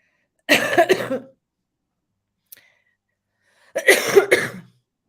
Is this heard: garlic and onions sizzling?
no